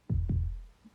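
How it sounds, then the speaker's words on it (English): Two deep, muffled heartbeat thumps land in quick succession, heavy and close, then fade into a quiet tail, part of Bruce Springsteen's recording of War. "And the heartbeat"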